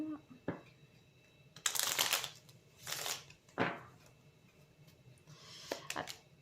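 A deck of tarot cards is shuffled and cut, in several short papery riffling bursts separated by pauses, fairly quiet and close.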